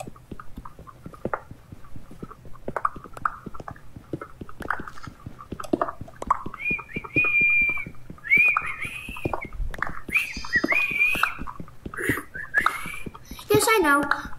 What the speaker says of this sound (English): My whistling is bad.